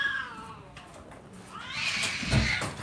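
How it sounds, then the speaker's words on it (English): Stray cats meow and caterwaul outside a window in a couple of drawn-out wavering cries, moderately loud over a low background rumble. "I'm tired of these stray cats,"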